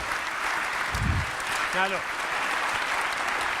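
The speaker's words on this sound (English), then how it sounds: "This applause is not actually for you." Audience applause fills the space as a steady, fairly loud wash of clapping, with a man's brief spoken words and a short low thump cutting through partway.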